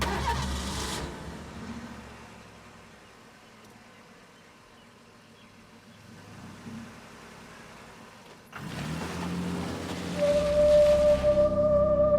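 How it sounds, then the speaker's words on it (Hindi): A car engine is cranked and fails to start, with a brief burst of mechanical sound, a long quiet low stretch, and then a louder grinding, whirring attempt toward the end. "मैं जानती हूँ ये गाड़ी स्टार्ट नहीं होगी।"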